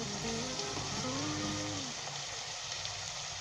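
Onion, ginger and garlic frying with mutton in a pan for Kashmiri aloo gosht, a soft continuous sizzle under a faint musical tone that fades halfway, leaving a quieter hiss.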